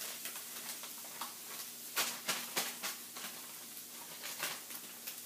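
Vegetarian meat-substitute crumbles sizzle in a hot pan, a steady faint hiss broken by a run of sharper scraping stirs near the middle, close and without talk.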